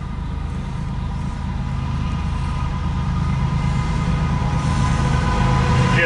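A CSX Q137-09 intermodal and autorack freight train rolls past, a steady loud rumble of wagons building slightly over the span with no voices.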